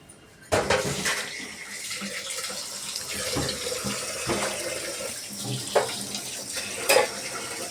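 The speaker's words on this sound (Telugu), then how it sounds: "పెసరపప్పు తీసుకునేసి ఈ రెండు బాగా కడిగి నానబెట్టేసుకుందాం." Moong dal being washed in a bowl of water while making pongal, with running tap water, splashing and swirling, and intermittent clinks of a vessel, close and continuous with no speech.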